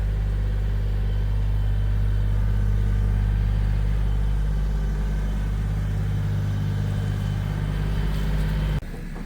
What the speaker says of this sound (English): we're going to back it straight up onto the trailer